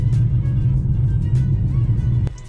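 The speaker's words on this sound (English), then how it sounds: "Let's take the Jeep Avenger out for a spin and see how it performs." Electric 2024 Jeep Avenger on the move, a steady low rumble of tyres and road noise with no engine note, continuous and close inside the cabin, ending in a brief sharp knock.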